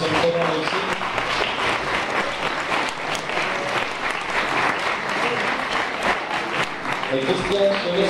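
Sustained audience applause at a ski team award ceremony, a dense continuous roar of clapping that holds steady throughout with voices faintly underneath.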